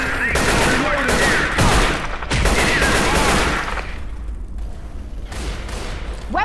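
Heavy sustained gunfire from Left 4 Dead 2 rattles close and loud for several seconds and eases slightly toward the end, with game voices faintly mixed in.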